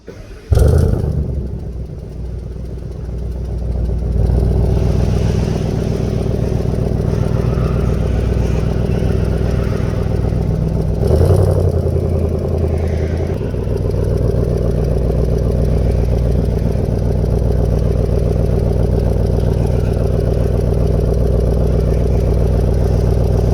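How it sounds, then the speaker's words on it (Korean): A 2023 Audi S8 L engine starts with a sharp burst, then settles into a deep, steady rumbling exhaust idle with a brief rev partway through. "제가 배기음 들려드릴게요"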